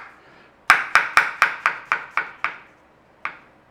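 A knife chops mushrooms on a cutting board in about eight crisp, evenly spaced knocks. A single stray chop follows after a short pause, close and clear with no talk.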